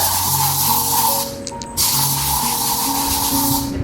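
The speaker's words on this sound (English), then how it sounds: "You need to spray the hell out of that shit." A cleaning spray is squirted in a short burst during an apartment cleanup, a brief hissing spritz standing out over steady mechanical background noise and tonal hum, with no one talking.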